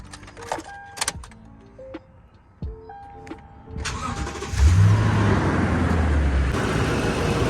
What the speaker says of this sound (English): Now I'll just go turn on the truck